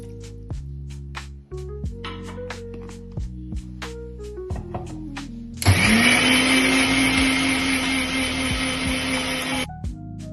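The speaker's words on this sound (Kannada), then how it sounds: "ತಣ್ಣಗಾದ್ಮೇಲೆ ಮಿಕ್ಸರ್ಗೆ ಹಾಕೊಂಡು ಗ್ರೈಂಡ್ ಮಾಡ್ಕೋಬೇಕು." An electric mixer grinder grinding egg curry masala with cashews and water: several short pulsed whirs at first, then a loud, continuous high whine for about four seconds before it stops.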